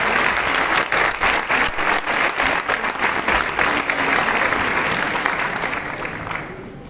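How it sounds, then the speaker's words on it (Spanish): Enthusiastic audience applause at a Colombian book launch for William Ospina's book, a steady dense clapping that holds strong for several seconds, then begins to thin and fade toward the end, with no voices over it. "recibámoslos con un fuerte aplauso"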